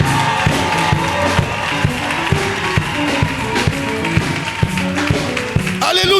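A church congregation acclaims God with loud cheering and clapping, a dense crowd roar with repeated sharp claps and shouts throughout, close and energetic.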